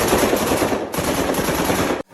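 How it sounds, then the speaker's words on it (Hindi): A dense burst of rapid gunfire from an attack in Pahalgam, Kashmir, loud and continuous like an automatic weapon, cutting off abruptly near the end. "पहली गोली चली।"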